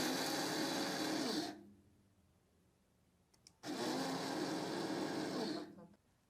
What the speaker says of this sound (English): I'm going to crush this raw sugar in the grinder here